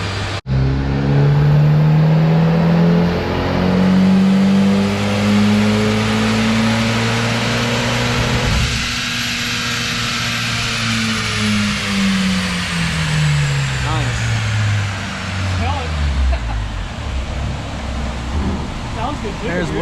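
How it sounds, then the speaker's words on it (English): A Mitsubishi Evo X MR, untuned, runs on a dyno, its engine humming steadily then revving up and down in smooth sweeping pitch changes, loud and close, with people talking at moments. "He's warming it up on the dyno right now before he makes the pull."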